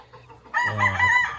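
A gamefowl chicken in a backyard gamefarm gives a short, close vocalization after a brief quiet start, a single harsh call lasting under a second.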